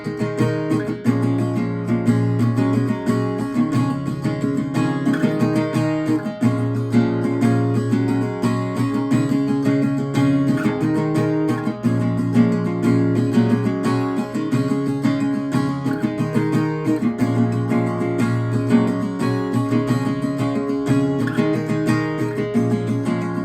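Continuous acoustic guitar strumming of a full pre-chorus section of a song, dense and even in volume, played solo and close for over twenty seconds with no voices.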